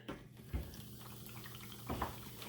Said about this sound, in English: Okay, so the broth is ready. I'm going to add a beer.